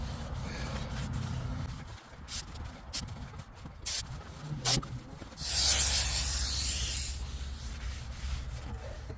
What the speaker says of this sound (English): just going to use some brake clean here